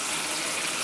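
Water running from a kitchen sink tap into a jar, a steady broadband gush lasting under a second with no voices over it.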